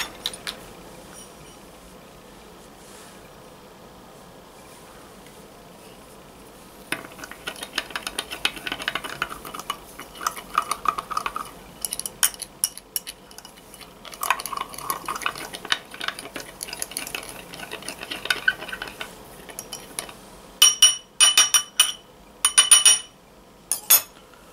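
A Swizzle Malarkey cocktail being mixed, with quiet at first, then stretches of liquid swirling and stirring, and a burst of sharp glass and utensil clinks near the end.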